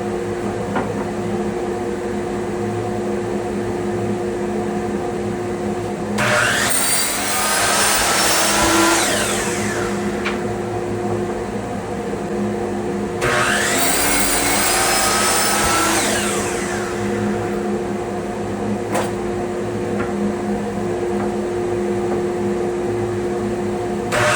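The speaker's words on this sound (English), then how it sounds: "So turn the dust collector off so you can hear me." A workshop dust collector drones steadily in the background, joined twice by bursts of loud, rising saw-like whine while cedar fence boards are cut; no voices are heard.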